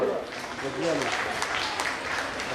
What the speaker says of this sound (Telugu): ఒక్కసారి చప్పట్లు.